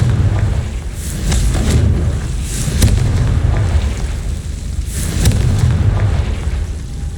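Confringo blasting spell detonating in Hogwarts Legacy: loud, deep booming blasts with a rumbling low end, several bursts around one, three and five seconds, each swelling then fading back into a churning roar.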